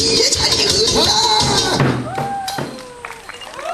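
An outdoor audience in a park claps and cheers for folk performers, a lively burst of applause mixed with shouts and voices that tapers off toward the end.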